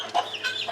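Newly hatched guinea keets give shrill, high peeps and chirps, several overlapping calls in quick succession, fairly close and alone without talk.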